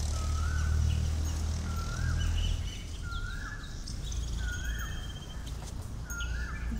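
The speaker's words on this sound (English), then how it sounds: "see these birds" Birds call in a jungle with a clear rising whistle repeated about six times at an even pace, some softer chirps behind it and a low rumbling background.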